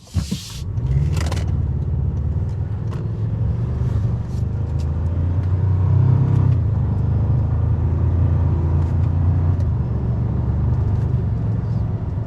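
A 2024 Toyota Tacoma TRD Off-Road with an 8-speed automatic in manual shift mode drives along, giving a steady low engine and road rumble heard from inside the cab, with a brief clunk at the start.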